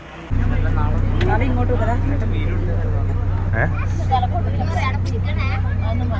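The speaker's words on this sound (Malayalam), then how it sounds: "വണ്ടി ഷാർട്ടാക്കി തുടങ്ങി" A vehicle idles steadily with a low engine hum after starting, setting off for a wedding in Kannur, Kerala, with people chatting and a hubbub of voices throughout.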